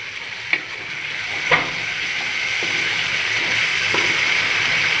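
Bhindi masala, okra cooked with spices, sizzles steadily in a pan with a continuous hiss, broken by a few soft stirring knocks, close and alone.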